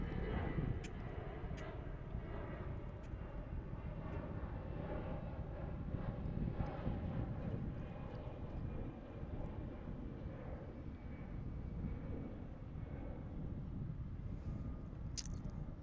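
Broad steady jet roar from a Qatar Airways airliner at DFW International Airport, heard from a distance as a continuous rumble with wind noise, lasting throughout.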